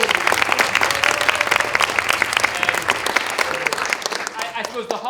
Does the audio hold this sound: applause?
yes